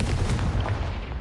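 A Confringo blasting spell explodes in Hogwarts Legacy, a loud, booming burst that rolls on as one continuous, heavy rumble without pause.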